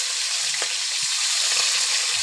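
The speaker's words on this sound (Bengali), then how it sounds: "এখন আমার মুরগির পিসগুলা কড়াইতে দিয়ে দিলাম ভাজার জন্য।" Chicken pieces sizzle in hot oil in a karahi, a close, steady hiss of frying. A few soft bumps and stirring knocks sound underneath, and nobody speaks.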